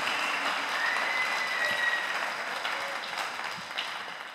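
Sustained applause from a church congregation at a sermon gathering, a dense steady wash of many hands clapping that fades slightly toward the end.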